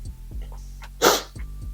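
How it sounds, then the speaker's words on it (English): A single sharp human sneeze bursts out close and loud, set against a low steady hum with a few faint dog-like yelps around it. "Just had like a sneeze attack."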